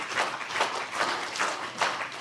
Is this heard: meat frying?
no